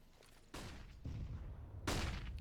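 A grenade goes off during a competitive video game match, heard as a sequence of sharp, booming blasts, three distinct hits over a couple of seconds, each followed by a rumbling tail, fairly close.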